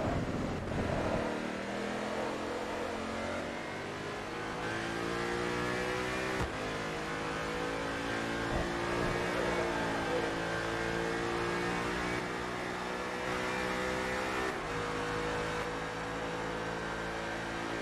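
Race car engines in Forza Motorsport 3 roar steadily throughout, shifting pitch as they rev up and change gear, with one loud engine in front and other cars' engines mixed in.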